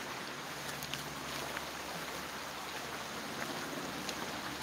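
Creek flowing beside a forest path, a steady soft wash of running water heard from a little distance, continuous and even, with faint scattered clicks and no voices.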